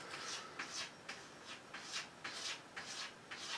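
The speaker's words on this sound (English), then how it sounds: "scratching to come in because I've closed the door" A cat scratching at a closed door from the other side, a faint rhythmic series of scraping strokes, roughly three per second, heard alone in a quiet room.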